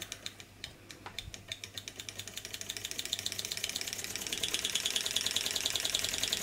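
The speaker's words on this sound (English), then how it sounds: "And there goes the Stirling engine." A large-scale Stirling engine driving a Baker fan gives off a rhythmic mechanical clicking that starts slow and steadily quickens and grows louder as it comes up to speed, with no voices.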